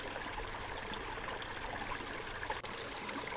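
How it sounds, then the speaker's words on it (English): A small brook tumbles over rocks at Aguirre Springs, a steady close babbling and trickling flow with no voices, continuous across the whole moment. "A little brook. You can see the water coming down through and the different vegetation."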